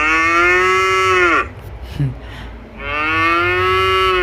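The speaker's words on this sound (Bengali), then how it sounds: "লোক মনে হবে যেন কোথা থেকে গরু ডাকছে" A recorded cow from an animal sound app moos twice, loud and close, the first long call trailing down into a short grunt, then a second sustained moo after a brief pause.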